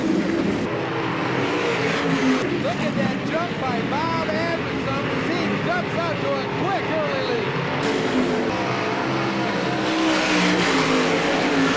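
Sprint cars at a Great Lakes Outlaw Super Sprint race on a dirt track, engines roaring and revving steadily and loudly throughout, with a race announcer talking over the noise.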